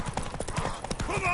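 Galloping horse hooves clip-clop in a quick, steady rhythm during a horse race in The Witcher 3: Wild Hunt, loud and close, mixed with game music and voices.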